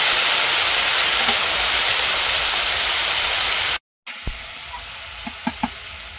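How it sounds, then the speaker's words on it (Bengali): Onion and garlic frying with taro over a clay stove, a loud, steady close sizzle filling the space, then a brief cut and a quieter crackle with scattered pops and stirring clicks. "পেঁয়াজ রসুনটা ভেজে নিয়েছি, এবার কচু দিয়ে দেবো।"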